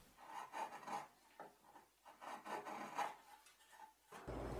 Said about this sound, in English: The tape also kept the saw above the surface of the tower, so some planing was also necessary.